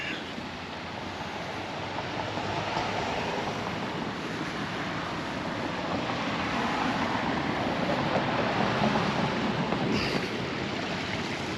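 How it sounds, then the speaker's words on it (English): Water surging and rushing through a channel outdoors, a steady broadband wash that builds slightly, with wind buffeting the microphone. "Oh, here's some water coming through."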